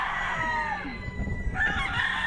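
Chickens cluck and a rooster crows in a farmyard, the drawn-out crow rising over scattered low clucking that continues through the short stretch.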